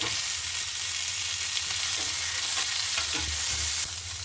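Onions, green chilies and tomatoes frying in oil in a pan, a dense, constant close-up sizzle with faint scraping stirs and light pops scattered through; no voices.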